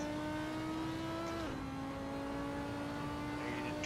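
Race car engine in a sim racing game on the Nürburgring Green Hell, a steady droning tone that dips in pitch at a gear change and then holds, continuous and moderately loud.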